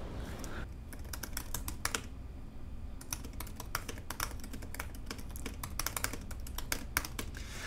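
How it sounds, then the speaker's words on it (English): Rapid, steady clicking of a 2017 MacBook Pro keyboard being typed on, with brief pauses between bursts of keystrokes and no voices. "I'm just going to open a text pad here so I can do some typing"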